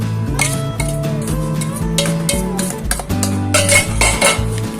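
Sponge cake batter for an oven-free tea cake being beaten slowly in a bowl, with repeated utensil clinks and scraping against the bowl over a steady musical background.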